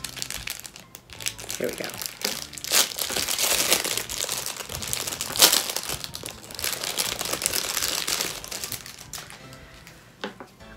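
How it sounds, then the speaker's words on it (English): Plastic packaging from a Christmas stocking gift is crinkled and torn at close range, a busy stream of crackling rustles and sharp snaps, while a person talks briefly over the handling. "Okay, I can't get into this plastic."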